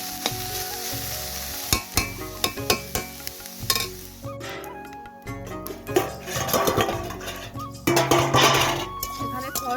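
Koi fish frying in a covered pan in a home kitchen for a thin fish curry, steady sizzling with clinks and stirring knocks of utensils against the pan, louder sizzle bursts toward the end.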